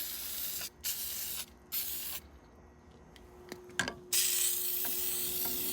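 A hose sprays water over car parts from a Rolls-Royce in short hissing bursts separated by pauses, then a longer steady spray at the end, close and fairly loud.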